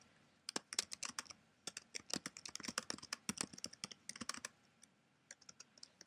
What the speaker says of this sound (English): What you can do instead is you can type them here as he's dictating to me.